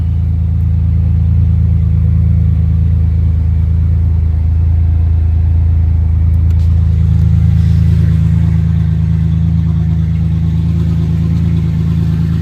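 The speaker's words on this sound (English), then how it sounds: "Sounds pretty good without exhaust." A car engine with no exhaust fitted runs close and loud, a deep, steady droning rumble held at constant speed throughout, with no talking.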